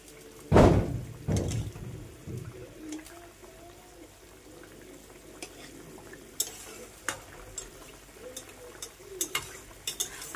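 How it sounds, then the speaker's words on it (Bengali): Hilsa fish simmering in a mustard curry is stirred and turned in the pan, with two loud scraping knocks at the start, then quieter bubbling and occasional light utensil clicks. "মাছটাকে একটু নাড়াচাড়া দিয়ে উল্টে দেব।"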